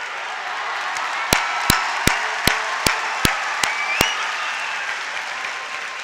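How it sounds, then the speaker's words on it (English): A large crowd of about 5,000 at the Lodi High School Class of 2018 commencement applauds a graduate: a steady wash of distant clapping, punctuated by about nine sharp, evenly spaced loud claps close by. "Let's give him another round of applause"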